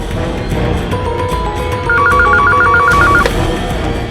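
A telephone rings with a rapid, warbling electronic trill lasting about a second, over a dull background rumble.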